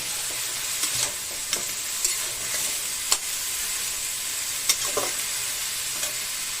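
Shredded cabbage fries in a pan in Bengali style with green chilli, salt and turmeric, a steady close sizzle broken by repeated sharp spatula scrapes and taps as it is stirred.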